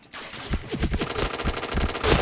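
Rapid bursts of automatic gunfire from the video game Point Blank crackle close and loud in quick, rhythmic volleys across the whole span.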